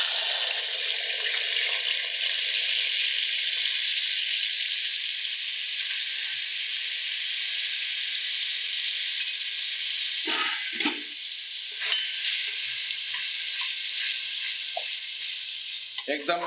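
A paste of yogurt mixed with spices sizzles and fries in hot ghee for Rampuri mutton korma, a loud continuous hiss with a few stirring scrapes and clinks.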